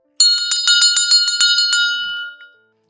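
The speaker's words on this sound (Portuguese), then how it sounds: "Então vamos bater o sininho." A small bell is struck repeatedly in a quick, bright run of about ten ringing strikes, close and clear, then left to fade out alone with no talking.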